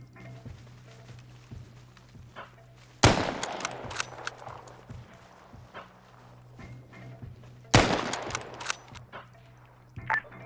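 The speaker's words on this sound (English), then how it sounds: "Gunfire coming in northwest." Two sudden bursts of gunfire in the military video game Arma, each a sharp crack followed by scattered shots, with quiet stretches of faint footsteps and low background hum between them.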